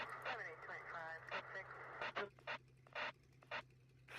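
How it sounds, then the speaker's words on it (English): Squawking police radio in a video game, a crackly, garbled transmission of chirps and short radio bursts, heard close and fairly clear over a low steady hum. "And it makes a little squawking sound."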